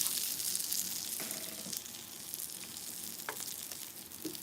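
Onions frying alongside burgers on a hot cooking surface, a steady dense sizzle with brief spatters and light scraping near the mic, no talking.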